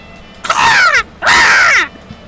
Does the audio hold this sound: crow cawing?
yes